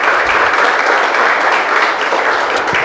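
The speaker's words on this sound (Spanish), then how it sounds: "Le damos un fuerte aplauso," A church congregation gives a strong, loud round of applause, dense and sustained clapping close by that holds steady for about three seconds without pause.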